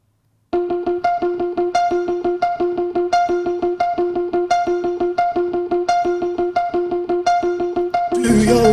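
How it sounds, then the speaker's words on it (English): An electric guitar arpeggio picked through an amp miked with an SM57, a rapid repeating pattern of evenly plucked notes that runs on for about eight seconds, ending in a brief burst of distorted noise. "So this is the sound of the arpeggio."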